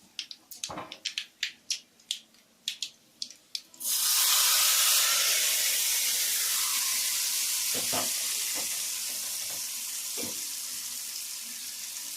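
Hot fried tempering poured into chutney erupts into a loud, sudden sizzle that hisses on and slowly fades, preceded by a few sharp taps and knocks, close up with no talk.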